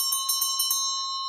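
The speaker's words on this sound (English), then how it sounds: "the last orders bell has gone" A pub's last orders bell rings in a quick run of about five bright metallic strikes, then a clear ringing tone that hangs on and slowly fades, with no talk over it.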